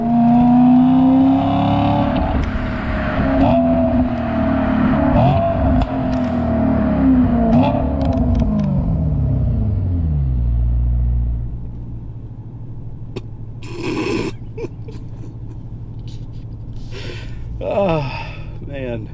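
2013 BMW M3 Lime Rock Park Edition on a test drive, engine droning loudly from inside the car, then dropping pitch as it slows and settling to a low idle while someone speaks excitedly.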